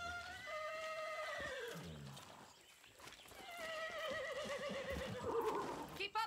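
A horse in Far Cry 6 whinnies twice in long wavering neighs, close and loud, with a soft clip-clop of hooves between the calls and no talk.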